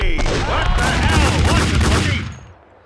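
Gunfire in the video game Max Payne 2 comes as a loud, dense burst of rapid shots with metallic ringing and layered effects, then fades out quickly near the end.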